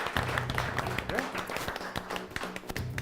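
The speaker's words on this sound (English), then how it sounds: "Give her a round of applause." A small group gives a round of applause during a tabletop role-playing game session, moderate scattered clapping that fills the short stretch alone, with no talk.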